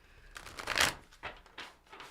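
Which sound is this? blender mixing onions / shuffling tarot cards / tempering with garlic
shuffling tarot cards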